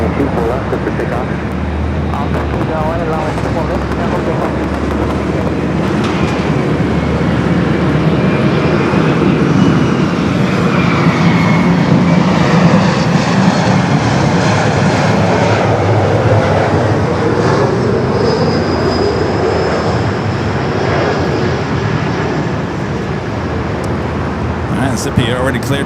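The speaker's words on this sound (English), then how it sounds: "Zippy already cleared for takeoff there on 24 left." A jet airliner takes off from runway 24 left at Los Angeles International Airport, its engine roar steady and loud throughout, heard at a distance across the airfield.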